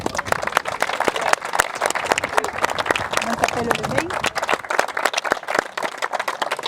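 An audience at an event applauds a group of women credited with keeping an organisation afloat, dense crowd clapping that is loud and close and continues without a break to the end.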